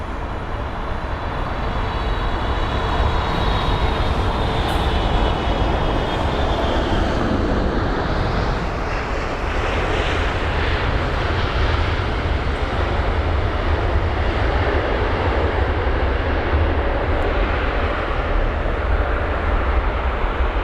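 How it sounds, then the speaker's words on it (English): A United Airlines Boeing 767 airliner roars steadily at an airport, a loud continuous broadband engine rumble with a high whine fading early, sustained throughout without talk. "And there's the United 767."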